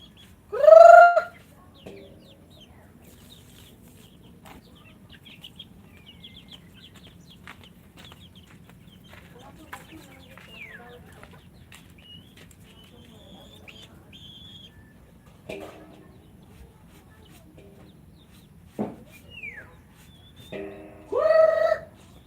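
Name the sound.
chickens clucking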